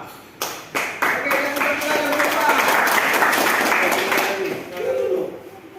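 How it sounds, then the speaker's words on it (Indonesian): A few separate claps open, then a room of students at an automotive engineering class breaks into brief, lively applause that swells and tapers near the end. "berikan tepuk tangan untuk kelompok A"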